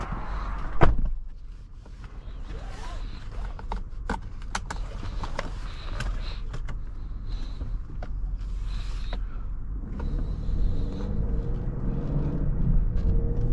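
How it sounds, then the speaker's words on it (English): A 2022 Lincoln Aviator Reserve SUV sets off on the road, heard from inside the cabin: a sharp click and scattered creaks and rattles come first, then a low road rumble that grows steadily louder. "Let's get this Aviator out on the road and see how it drives."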